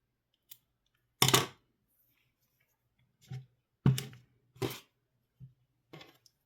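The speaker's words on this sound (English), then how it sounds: "I'm going to cut off my pink yarn." Pink yarn snipped with scissors during crochet work on an egg mesh market bag: a handful of short, sharp clicks and snips spaced irregularly, close and fairly quiet, with no talking.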